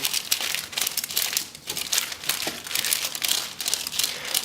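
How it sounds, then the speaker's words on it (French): A rolling pin pressed over a sheet of parchment paper covering thinly sliced beef carpaccio, giving continuous close crinkling and rustling paper noise with rhythmic swells as it rolls back and forth. "On met au-dessus une autre feuille de papier sulfurisé. On prend un rouleau à pâtisserie et on roule."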